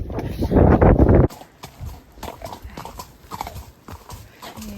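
A ridden horse's hooves clip-clop in a steady rhythm close by, loud wind buffeting at first, then quieter hoofbeats with light rustling.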